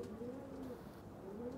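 Pigeons coo in soft, low, rolling calls, a steady close murmur from a flock of kept birds with background noise throughout.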